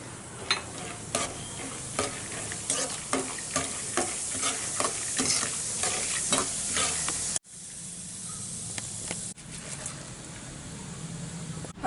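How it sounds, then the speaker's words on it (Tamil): Roasted gram (pottukadalai) frying in hot oil for kara boondi gives a close, steady sizzle under repeated stirring scrapes, then drops to a quieter hiss after a brief pause. "இதில் வந்து கொஞ்சம் பொட்டுக்கடலை நான் பொரிச்சு எடுத்துடலாம்"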